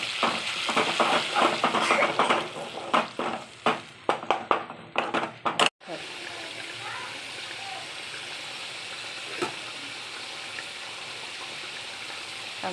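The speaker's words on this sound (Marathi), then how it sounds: "आता यामध्ये टाकत आहे टमाटरची केलेली प्युरी." Tomato puree tipped into a frying masala, giving a burst of loud sizzling and stirring, then a steady, softer frying hiss that carries on alone.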